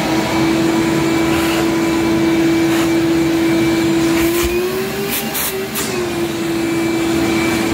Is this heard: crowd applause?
no